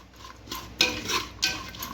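A small spoon stirs spices into a pot of khichdi made with amaranth greens and moong dal, giving two quick scraping swishes over a soft background hiss, close and without voices.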